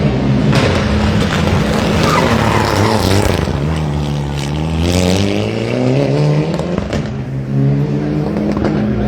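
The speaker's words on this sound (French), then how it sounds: "Voilà Alexis Flambard avec la 991 Porsche" A Porsche 991 rally car on a closed rally stage in Normandy, its engine roaring loud and close as it passes, pitch sweeping through gear changes with crackling exhaust pops before fading away.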